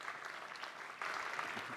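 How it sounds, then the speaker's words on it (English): Studio audience applause, a short burst of clapping that swells midway and holds steady, fairly faint and distant. "That's a round of applause"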